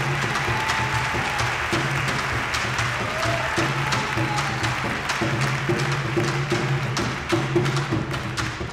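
Concert audience applauding a pianist at a live percussion-driven show, steady dense clapping sustained throughout with low band tones lingering beneath.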